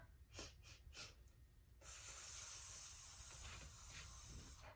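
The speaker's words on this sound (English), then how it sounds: "Now we're going to take 3 bunny breaths" Children take three quick breaths in a row, soft sniffing puffs close by, followed by a longer steady breathy hiss.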